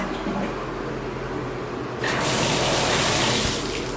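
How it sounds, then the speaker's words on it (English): Water gushing and running steadily in a bathroom, consistent with a toilet flush, growing louder and fuller partway through, close by with no talking. "Toilet flushes."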